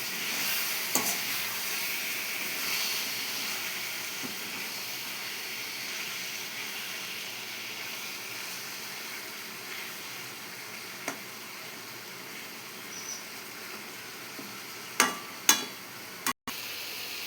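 Chicken fry sizzling in a pan while being stirred, a low continuous hiss with occasional scrapes and clicks of the utensil, fairly quiet with no voices.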